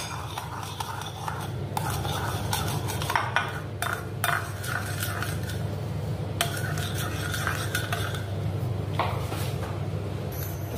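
Eggplant pieces being mixed with a garam masala spice paste using a knife, giving steady scraping and clinking strokes against a dish over a constant low background hum, with no talking.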